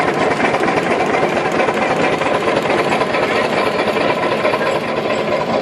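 Steam ploughing engine pulling away across a field with the plough cable attached, giving a loud, steady mechanical chuffing and rumble that holds throughout with no pauses.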